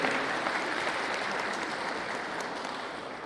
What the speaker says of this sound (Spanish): quisiera que todos le tributáramos un fuerte aplauso a nuestro camarada Pablito.